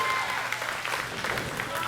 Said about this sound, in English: This crowd is waking up